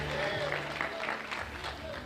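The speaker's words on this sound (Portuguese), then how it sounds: "Então aplauda, dá um grito de glória para Jesus." Church congregation applauding and cheering at a Pentecostal worship service, a steady broadband wash of clapping with voices shouting praise mixed in throughout.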